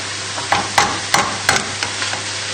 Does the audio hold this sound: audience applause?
no